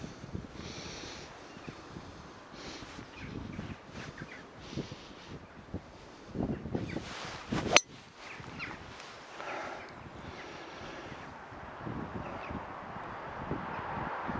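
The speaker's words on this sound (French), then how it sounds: "Il y a un peu de vent" Steady wind rushes and buffets across the mic outdoors on a golf course, with gusty swells and a sharp knock partway through, no voices.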